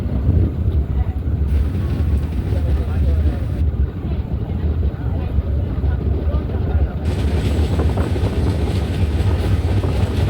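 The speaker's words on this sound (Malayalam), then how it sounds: "ട്രെയിൻ എടുത്തു." The Pune–Kanniyakumari Express pulls away from a station in Kerala, a loud steady rumble and rattle of the moving carriages heard from inside, with some talk in the background.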